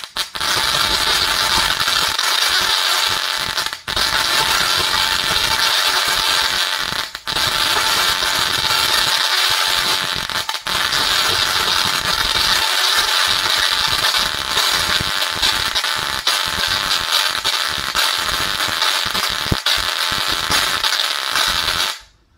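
Musical Tesla coil spark discharge playing a song, a loud, continuous buzzing crackle pulsing in the song's rhythm, with brief dropouts where the sparks cut out, no talking over it.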